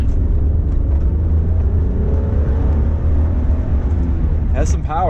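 A 1991 Nissan 300ZX Twin Turbo with a five-speed manual pulls hard from inside the cabin, a loud steady engine drone with rising harmonics throughout and a brief higher whine near the end.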